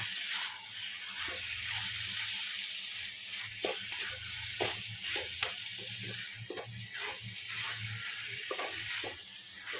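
Banana flower sizzling in a wok as it is stirred, a continuous soft frying hiss broken by repeated light scraping strokes of the spatula, close and fairly quiet.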